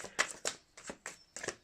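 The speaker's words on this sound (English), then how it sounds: "I'm just going to shuffle these one more time." Tarot cards are shuffled by hand in a quiet room, with crisp riffling bursts repeating about six times in an uneven rhythm, close and fairly soft.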